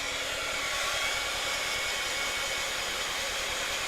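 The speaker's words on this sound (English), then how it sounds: "I'm going to dry this for just a second" A hair dryer blows a steady, close, loud hiss of air for the whole stretch while ink is dried on a craft card made with a stencil and hair gel water technique; there is no speech.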